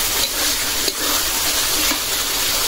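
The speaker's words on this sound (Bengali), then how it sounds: "মশলা ভালো করে কষাই নিলাম একদম শুকনো শুকনো করে" Spices being sautéed until dry in hot oil in a pan, with the oil separating, making a steady, close, loud sizzle and hiss with faint stirring scrapes and no voices.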